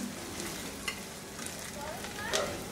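Dried chilies and onion frying in a pan, a soft steady sizzle with a few light stirring scrapes, fairly quiet and alone.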